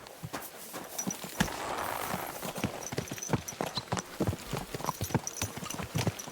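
Horse hooves clip-clop steadily on a hard surface in the video game Kingdom Come: Deliverance II, a close, regular walking rhythm that carries on throughout.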